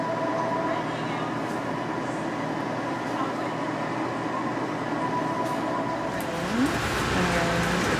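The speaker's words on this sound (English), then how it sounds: "it's been a minute since I've been on the train" Steady rumble and rattle of a moving passenger train heard from inside a car, continuous and close, with a brief squeal near the end.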